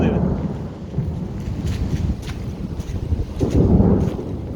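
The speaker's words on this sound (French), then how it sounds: "quand il pleut ici, c'est pas à moitié quoi" Heavy rain pours during a thunderstorm at Lake Ohrid in North Macedonia, a dense steady roar with low rumbling swells and gusty wind buffeting, loud and continuous throughout.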